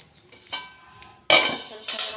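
Lid set over a chocolate pizza in a pan on the stove, giving a few light metallic clanks and clinks, with one sharper, louder clatter near the end.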